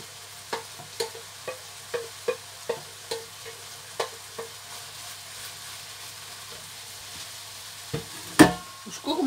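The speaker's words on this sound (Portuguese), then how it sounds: "Vou fritar um pouquinho e já volto." Bacon and carrots frying in a pan for a cabbage dish, a soft sizzle under a series of regular stirring clacks, then a louder scrape near the end.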